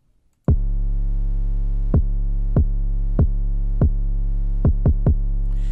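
A deep, sustained 808 bass copies the kick drum rhythm in a beat, booming low and continuous, with punchy kick hits on top at irregular spacing, loud and with no voices.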